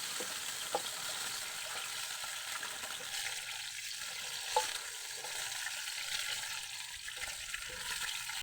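Longganisa sausage and fried rice fry in a pan with a steady, soft sizzle and occasional stirring scrapes and clinks, close and continuous.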